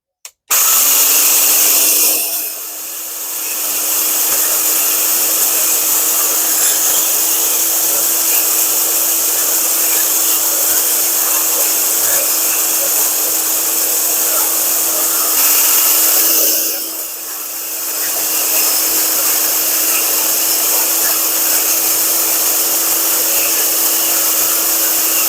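A loud lawn edging tool whines at a constant high pitch as it trims lawn edges, briefly bogging down twice as it cuts, with no voices.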